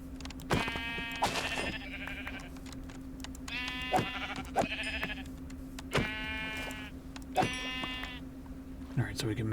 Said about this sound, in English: It looks like they are all white sheep